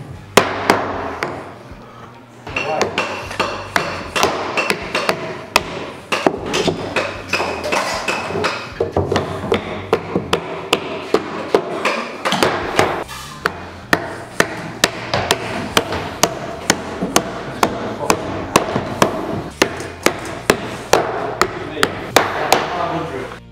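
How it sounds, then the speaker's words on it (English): Wooden wedges hammered into a door frame joint to tighten it, a long run of sharp, loud, evenly spaced wooden knocks that grow more regular and punchy toward the end. "the way it works is by just hammering the wedges in to make a nice tight joint"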